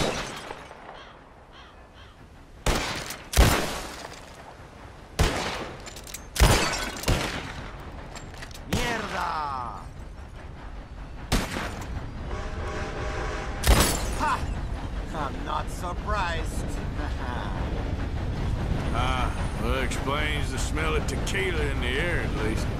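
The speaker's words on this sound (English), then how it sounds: "Who can shoot the most bottles?" Gunshots ring out in a Red Dead Redemption 2 bottle-shooting contest, sharp separate cracks spaced a second or two apart, each followed by glass shattering, then a denser spell of shots, with voices talking between them.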